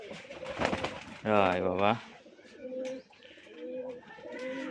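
Rajshahi Giribaz pigeons coo in short throaty bursts, one strong rolling coo followed by softer repeated calls nearby, while someone talks intermittently over them.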